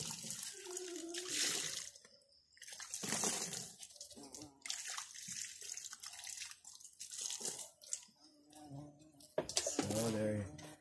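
Water poured into potted Philodendron Moonlight plants, splashing and trickling into the soil in several bursts, near and fairly faint, with a person talking in between.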